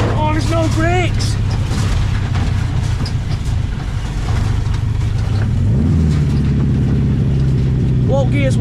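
A 1970s Volkswagen Beetle, driven for the first time in over twenty years, runs in a low gear. A loud, steady engine drone shifts pitch partway through, and talk comes at the start and the end.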